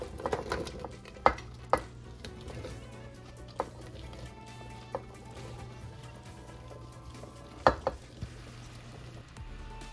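Nopales cactus paddles cooking in oil in a clay pot on a stovetop over medium heat, with a steady low sizzle and a few sharp knocks and scrapes as the pieces are stirred.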